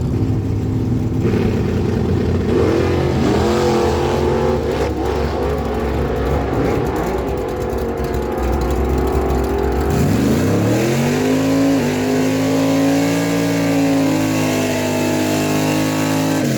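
A 1992 Ford F-150 racing truck launching at a dragstrip: loud engine revving and roaring, then a rising, climbing engine note as it accelerates away, continuous and close.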